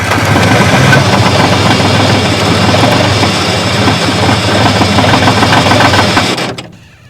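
A diesel engine with glow plugs runs roughly after a cold start, a loud, close, knocking idle that holds steady for several seconds and then cuts off abruptly.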